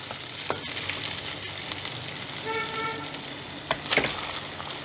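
Banana flower (mocha) is stir-fried in a pan over high heat, giving a steady close sizzle with occasional spatula knocks and scrapes and a brief tonal whine partway through.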